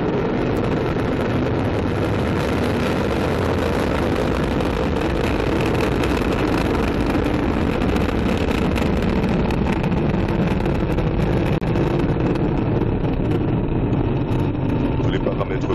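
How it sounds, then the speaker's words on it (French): An Ariane 5 rocket lifts off on flight 215 as the Vulcain main engine and solid boosters ignite, producing a loud, continuous, wind-buffeted roar that persists throughout with a voice heard faintly beneath. "Allumage Vulcain. Allumage EAP, décollage."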